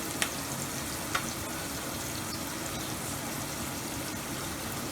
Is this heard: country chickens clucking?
no